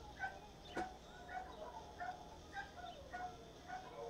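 Several dogs bark indoors inside a house, a series of short, fairly faint barks and yips repeating at irregular intervals with some low background noise.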